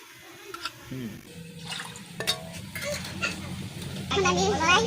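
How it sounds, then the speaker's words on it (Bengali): Bay leaves and cardamom are rinsed in water in a home kitchen, a short splashing and trickling wash heard close up, with voices and children's chatter in the background. "এখন আমি তেজপাতা এলাচি সুন্দরভাবে ধুয়ে নিতেছি।"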